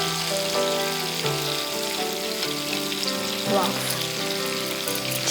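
Chicken lollipops deep frying in hot oil, a steady close sizzle and bubbling with a few faint stirring sounds, no voices.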